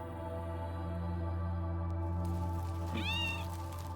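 A cat gives a single short meow in the Ukrainian video game Whispers Among the Poppies. The call is clear but not loud over a steady droning background of game music and hum.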